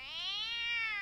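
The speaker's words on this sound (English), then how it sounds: "As soon as the drone approaches the cat, it begins to meow loudly." A cat gives a single loud, drawn-out meow as a drone approaches it, rising and then holding its pitch, close and clear with no talking.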